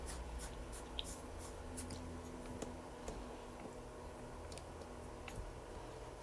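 A pen writes out x values with brackets for a math quiz review: faint, scratchy strokes with light ticks against a low steady hum, and no talking.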